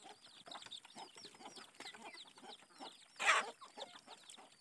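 Chickens and ducks clucking and chattering steadily at a hillside farm shed while being fed dried cassava mixed with bran, a dense flock close by with one louder burst of squawking partway through.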